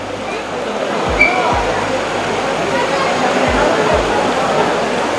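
Stream water rushes steadily at Robbers Cave (Guchhupani) in Dehradun, a loud continuous wash with a few low thumps as a person speaks over it.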